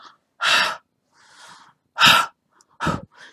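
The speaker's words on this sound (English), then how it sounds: "the first way is just to breathe on it" Someone breathes onto watercolor-pen coloring to keep it wet: three or four close, soft, breathy exhalations with short pauses between, plus a fainter puff in the middle, and no talking.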